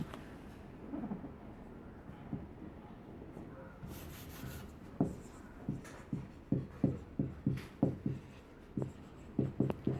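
A pen taps and scratches out numbers for working the HCF of 6 and 8, in short rhythmic strokes that grow more regular in the second half. The strokes are close and fairly quiet.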